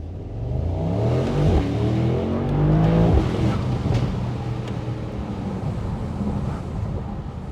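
A rare Mercedes-AMG driving through Paris streets, its engine a steady close rumble with rising revs and harmonic sweeps, some wind buffeting over the microphone.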